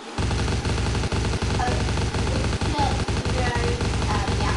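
Rapid automatic gunfire in the Cops N Robbers FPS video game, a sustained run of evenly spaced shots that stays loud and dense from start to finish.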